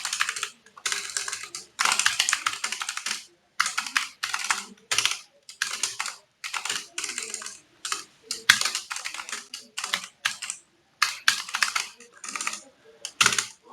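Typing on a computer keyboard comes through in quick bursts of close, crisp key clicks separated by short pauses, steady and rhythmic with no voices.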